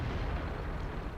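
A loud, dense boom from the AMX 30B tank cannon firing in World of Tanks fills the whole moment with heavy, sustained low rumble and no voices over it.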